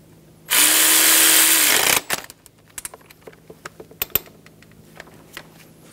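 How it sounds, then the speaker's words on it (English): A power tool snugs down the bottom alternator bolt on a 2010-2014 Subaru Outback 2.5L H4 engine: one loud, steady whirring burst of about a second and a half, followed by scattered light metallic clicks and taps. "Snug down the bottom alternator bolt."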